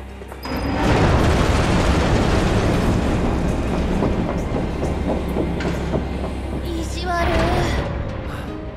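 A Final Fantasy VII Remake train rumbles heavily along the tracks toward the Sector 7 slums station, a loud sustained roar with rhythmic clattering and a brief metallic squeal near the end.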